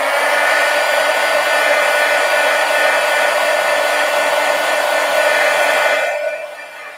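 A hair dryer blows at close range over wet watercolor paint, a loud steady whoosh for several seconds before it switches off and winds down.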